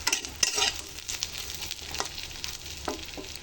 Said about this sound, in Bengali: সুন্দরভাবে আমার লোট্টা শুটকিগুলো আমি ভেজে নিয়েছি